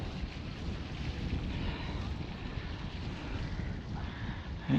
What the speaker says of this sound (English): A bit windy up here, isn't it? A bit breezy, yeah.